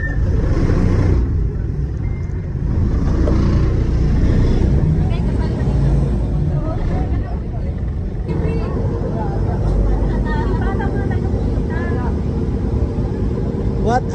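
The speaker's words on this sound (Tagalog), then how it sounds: "Yun ata yung mga pangkarerang bangka. Yun na nga, mga diesel turbo na pangkarera." Diesel turbo racing boat engines on a river near Wat Arun in Bangkok, a loud continuous rumbling roar with shifting pitch, heard under people talking nearby.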